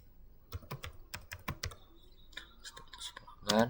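Fingers tap quick, uneven bursts on a computer keyboard, close and crisp, with a brief pause before a final cluster of keystrokes.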